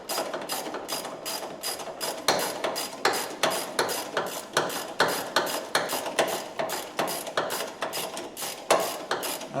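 A stubby ratchet cranks a bolt on a 1967 Ford Mustang during transmission and bell housing removal, with a steady series of rapid clicking pawl strokes, close and fairly loud, and no talking.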